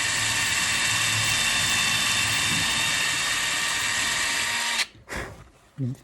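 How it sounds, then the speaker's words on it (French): A small drill bit bores a hole for a metal rod in a harmonica stand, the drill whining loud and steady for almost five seconds before stopping, followed by a few brief knocks and handling sounds. "Faut que le forêt soit assez petit, hein, quasiment du diamètre de la tige métallique."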